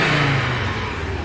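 An Audi TT RS from 2009 with a standard exhaust, warmed up, gives a short throttle blip, the engine note rising and then easing back, heard close and loud without talk.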